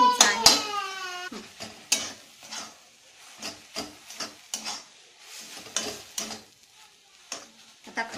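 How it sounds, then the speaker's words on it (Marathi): Khoa being sautéed in a pan for beetroot halwa, with a spoon scraping and stirring in repeated short strokes at close range, lightly sizzling, after a brief tonal sound at the start. "मी थोडा खवा टाकलेला आहे आणि परतून घ्यायचा आहे"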